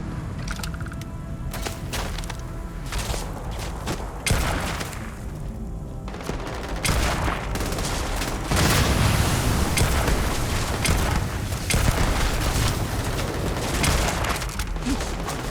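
Gunfire in the video game Starfield, with heavy rapid bursts and booming shots in a dense, loud firefight lasting throughout, intensifying in the second half, with almost no talk.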